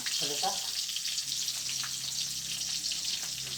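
Garlic sautés in a pan with an even, close hiss and crackle; a brief voice is heard at the start.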